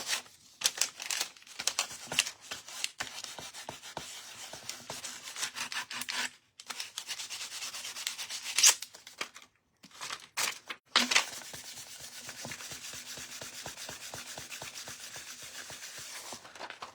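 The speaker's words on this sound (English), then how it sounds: "I'm going to rub this." Hand rubbing over a transferred design on a wooden birdhouse craft piece, brisk repeated scratchy strokes in bursts with short pauses, close and fairly loud, no talking.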